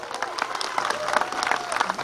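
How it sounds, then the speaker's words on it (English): Crowd applause at a Republican rally at the state fair in Springfield, a dense burst of clapping that stays steady and fairly loud throughout. "give Darren LaHood another round of applause"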